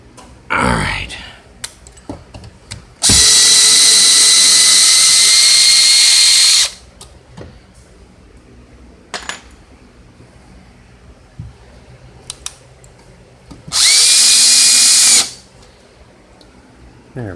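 Power drill driving 1.25 inch screws into an HVAC mounting plate, two loud whirring bursts of about three and one and a half seconds, separated by quiet handling clicks and brief knocks.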